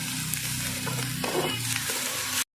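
Cabbage curry with turmeric and salt sautés in a pan with a close, continuous sizzle and a few stirring scrapes, then cuts off abruptly.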